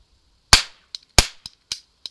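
A toy cap gun from Spain is fired repeatedly, giving two sharp loud cracks and several smaller snapping pops, close and dry with brief decays.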